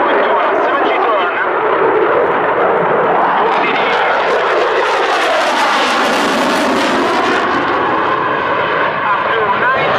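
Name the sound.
Eurofighter Typhoon jet engine during aerobatic display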